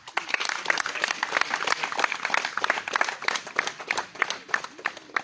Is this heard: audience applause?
yes